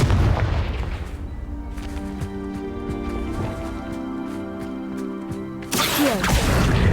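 A Confringo spell fired in the video game Hogwarts Legacy, a booming blast with a ringing, tonal magical tail that holds for several seconds before a second loud burst erupts near the end.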